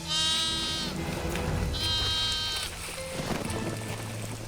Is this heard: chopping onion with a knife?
no